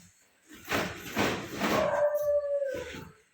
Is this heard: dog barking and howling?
yes